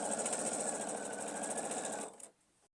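A sewing machine stitches triangles onto quilt block pieces with a fast, even mechanical chatter for about two seconds, then slows and stops; close and alone, with no voices.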